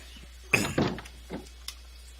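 A door opens and closes in the survival video game The Long Dark, giving a few close, solid thuds with a clinking knock, heard alone with no talk.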